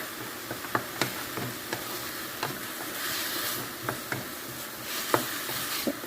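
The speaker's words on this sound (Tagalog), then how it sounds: "lutuin hanggang maging brown ang karne" Minced beef with a little tomato paste sizzling steadily in a pan, a continuous hiss broken by occasional sharp taps and scrapes of a spatula stirring the meat.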